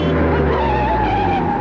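A car brakes hard on a busy road, its tires skidding in one loud, continuous screech that holds steady for the whole moment, with no voices over it.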